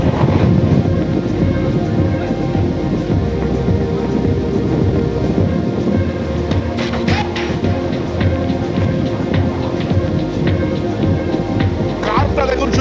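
A passenger train on the coastal line from Puri to Gopalpur in Odisha runs with a continuous loud rumble and heavy wind noise throughout, with voices partly heard under it.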